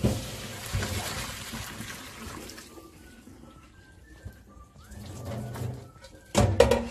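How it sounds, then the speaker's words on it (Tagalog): Hot water drains off freshly boiled lasagna noodles at the stove, a faint pouring wash that thins into trickles and drips, with a brief louder splash at the end. "Tanggalin na natin yung tubig."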